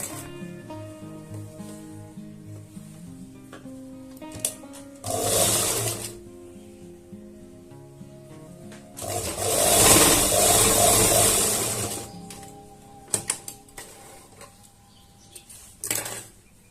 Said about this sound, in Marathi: आता ती शिलाई मी इथे देऊन घेणार आहे